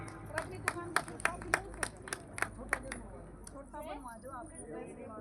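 A small group claps for an elderly woman at a family celebration of a national games winner, a short run of distinct, rhythmic claps that gives way to talking voices.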